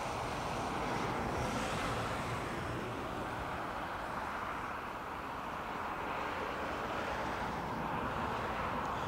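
Ryanair airliner departing Dublin Airport for Madrid, heard as a steady, broad jet roar at moderate distance that holds evenly without pause and fades only slightly toward the end.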